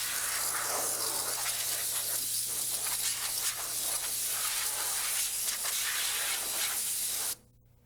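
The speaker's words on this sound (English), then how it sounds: "On final install, blow out the lower oil bath pan to clear it of any dust or debris." Compressed air blasts in a loud, steady hiss while blowing dust and debris out of the lower oil bath pan of a RotorWay 162F helicopter, holding continuously for about seven seconds before cutting off abruptly.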